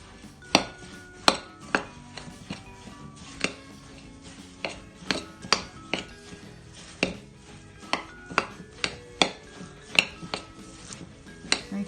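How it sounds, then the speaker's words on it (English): A spoon knocks and scrapes steadily against a saucepan while warm oats are stirred into melted butter, giving a run of sharp, evenly spaced clinks close by with no talking. "So you stir it all until it's combined."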